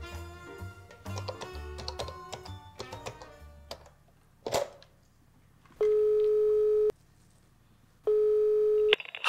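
Telephone keypad tones and clicks come in quick irregular bursts, then two long steady ringing tones sound loud and close, separated by a short silence.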